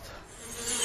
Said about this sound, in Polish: Nad kwiatami latały pszczoły.